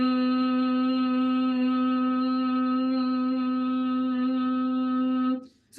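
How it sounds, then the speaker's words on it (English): A single loud, steady human hum holds one pitch through a long exhale during a breathwork session, strong harmonics throughout, then stops abruptly near the end. "The exhale is a hum as loud as you can for as long as you can."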